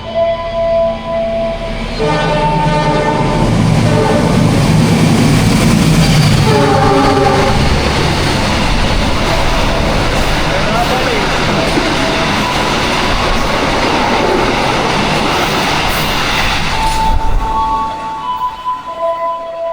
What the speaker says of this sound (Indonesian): tadi ada 2 kereta yang melintas langsung